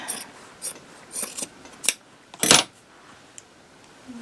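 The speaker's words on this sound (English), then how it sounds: "I'm going to trim it right away" Scissors trimming the edge of minky quilt fabric, a series of short crisp snips and rasps at irregular intervals, ending in a louder cut, close up with no talk.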